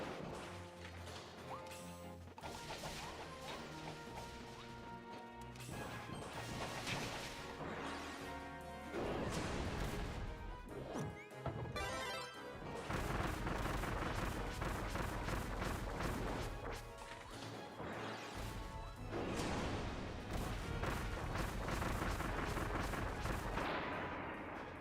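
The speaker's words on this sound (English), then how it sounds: "At least I had the bombs to bail me out." Bomb explosions in Kirby and the Forgotten Land come as repeated loud crashing bursts mixed into dense game music and effects, with no talking.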